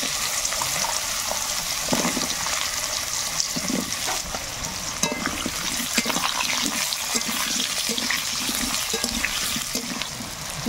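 Sliced potatoes frying in hot oil with whole cumin seeds, a steady dense sizzle and crackle continuing throughout with occasional louder spits and stirring sounds, fairly close, no voices.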